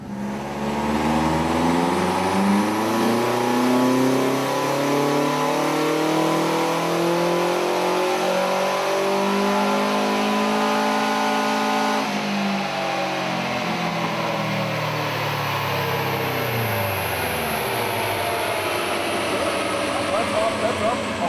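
A car engine on a dynamometer pull with the exhaust open revs up hard in one long continuous sweep, loud and close with a roaring, rising tone, then drops back as the pull ends.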